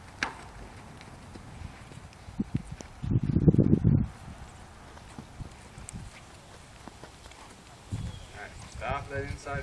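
A horse stepping on soft ground during a groundwork clinic session, with scattered hoof thuds and shuffling and one louder, heavier stamp in the middle, while a trainer talks nearby.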